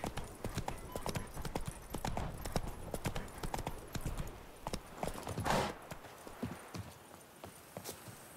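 Horse hooves clip-clopping at a steady riding gait in the video game The Witcher 3, continuous and fairly close, with a brief whoosh near the end and a faint voice now and then.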